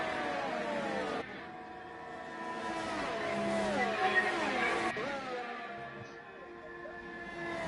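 Formula 1 cars racing at the Belgium circuit in the video game F1 2018, several high-pitched engines whining and shifting gears close together, a sustained layered drone with rising and falling pitch sweeps.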